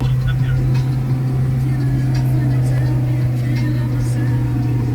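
A failing car drives along a road in northern Iran, its engine a loud, constant low drone blended with road rumble, steady from start to finish.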